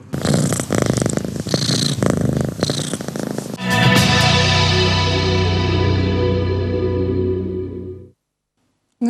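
A cat purrs steadily while held in someone's arms, a loud, close, continuous rumbling purr that runs for several seconds before stopping, with some handling noise at the start.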